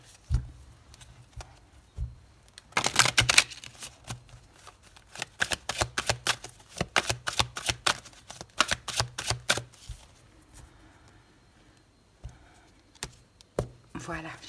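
Tarot cards slapped down one after another onto a table, a rapid run of crisp, close snaps and taps, with a few scattered placements before and after.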